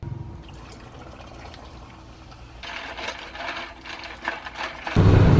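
Mio Energy liquid is poured into tangerine sparkling water inside a camper, a quiet trickle followed by louder fizzing splashes toward the end.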